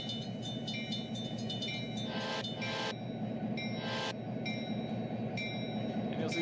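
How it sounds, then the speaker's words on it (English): A train rolls past in the Trainz 12 simulator, with a steady rumble of rail wheels and some high metallic clinks and squeals over it, continuous and fairly close. "You'll see the train pass by"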